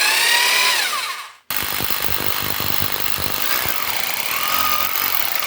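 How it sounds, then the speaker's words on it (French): A hammer drill whines loudly and steadily, briefly cutting out before starting again with a rough, grinding buzz as it bores into a plastered wall. "On va commencer en mode forage pour pas abîmer de trop le plafonnage et surtout pour amorcer le trou."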